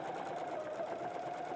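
A sewing machine chain-stitches fabric pieces for a pumpkin T-shirt project, running in a steady, continuous whir from start to finish, close up with no pauses.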